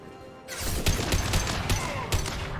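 Gunfire in Mass Effect 2, a heavy burst of rapid shots starting abruptly after half a second and continuing loudly with sharp repeated cracks, no voices over it.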